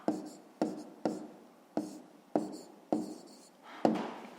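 Pen strokes writing numbers by hand on paper, seven short distinct scratches spaced about half a second apart, close and quiet.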